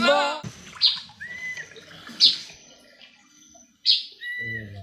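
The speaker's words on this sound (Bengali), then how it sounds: "পাখির শব্দ" Birds in the Ratargul swamp forest of Sylhet give sharp, bright chirps in three separate bursts, with quieter calls between and a brief voice at the start.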